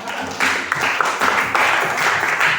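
Classroom students applaud all the groups, with moderately loud clapping from many hands in uneven bursts that swell and ebb, starting after a brief quieter moment.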